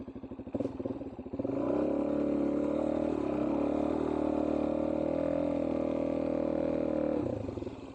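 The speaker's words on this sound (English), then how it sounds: "I guess I could do rolling burnouts now that I learned how to do them" A motorcycle doing rolling burnouts on dusty sand, the engine revving up into a loud, sustained roar for several seconds before easing off, with some rough clatter at the start.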